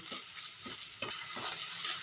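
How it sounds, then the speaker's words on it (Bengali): Katla fish oil fries in a pan, sizzling steadily close by while a spatula scrapes and stirs in regular strokes; no one speaks. "একটু তেলটা ভাজা ভাজা করে নিয়েছি"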